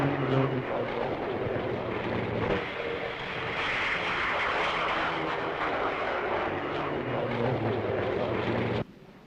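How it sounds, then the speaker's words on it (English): A Meteor Mark IV jet aircraft takes off with a loud, steady roaring whoosh of jet engine noise that holds for several seconds before cutting off abruptly. "the Meteor Mark IV takes off"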